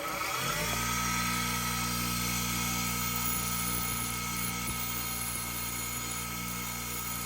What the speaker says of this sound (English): I'm gonna grind it a little bit now.